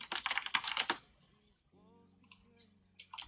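Rapid typing on a computer keyboard, a dense burst of clicks for about a second, then quieter scattered keystrokes over a low steady hum.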